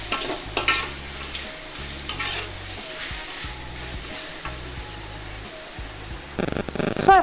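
Onion paste with pounded ginger and garlic paste frying for dry chilli mutton, a loud continuous sizzle with scraping stirs and clattering utensil hits, swelling louder near the end.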